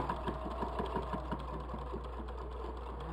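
A sewing machine stitching a seam on a fabric bowl cosy, with a rapid, even mechanical chatter of needle strokes over a low motor hum, close and steady throughout.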